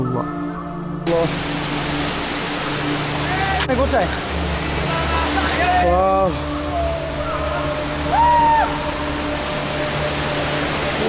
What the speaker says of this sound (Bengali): সামনে দাঁড়িয়ে আছে বিশাল লাখ লাখ ঝর্ণা